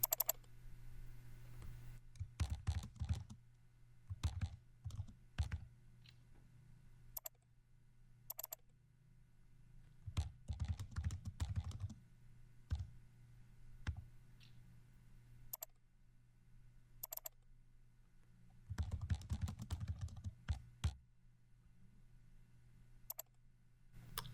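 Someone types task details on a computer keyboard in short bursts of close, crisp key clicks separated by quiet pauses, over a faint steady low hum in a quiet room.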